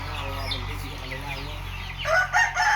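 Chickens cluck softly at a Thai farm's breeding house, and then a rooster crows loudly and close in repeated bursts near the end over the clucking, with no speech.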